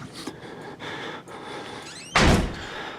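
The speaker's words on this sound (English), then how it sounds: "Apparently we're gonna slam that door shut." A door slams shut in the horror video game Outlast. A sudden heavy thud stands out loudly over a murky, rumbling background with fainter earlier clunks, and no voices are heard.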